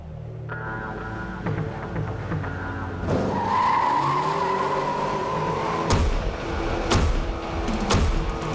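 Dodge car in the racing game Blur, engine droning steadily while tires skid and squeal through a long slide, with a few sharp impacts near the end; no talking.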